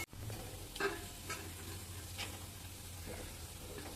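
Chopped ginger fries in oil with a quiet, continuous sizzle, joined by a few brief stirring scrapes and clinks. A low steady hum sits beneath it and no one speaks.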